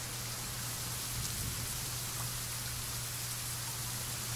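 Steady, dense rain in the video game Rake pours down without a break, a constant even hiss with a low hum underneath and no voices.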